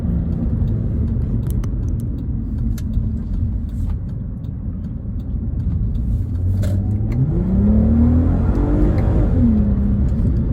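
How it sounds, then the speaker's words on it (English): A 2005 Audi TT Quattro's 250hp 3.2 VR6 engine rumbles steadily, then its pitch rises and dips in quick sweeps as the revs climb and blip to rev-match between gear changes, close and continuous. "You'll hear it kind of pick up and rev match there."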